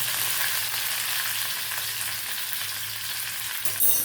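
Mustard seeds, urad dal and curry leaves sizzle loudly in hot tadka oil, a steady close hiss that fills the whole stretch with no talk over it.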